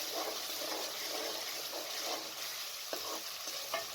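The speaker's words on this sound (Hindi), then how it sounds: "अच्छे तरीके से चम्मच हिलाएं।" A green chili paste with garlic and ginger fries steadily in a pan. A continuous sizzle runs throughout, with a few light clinks of a spoon stirring it.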